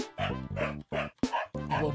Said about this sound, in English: They just like bark at people.